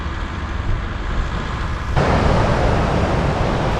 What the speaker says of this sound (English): we don't have an external microphone and it's windy here